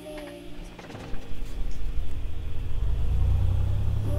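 A Piper PA24 light aircraft's piston engine catches and starts, a low rumble that builds after about a second and then holds as a steady, loud, close drone.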